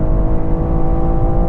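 A rear-wheel-drive car accelerating hard on a quarter-mile run, its engine a loud, steady droning roar that holds throughout with no voices.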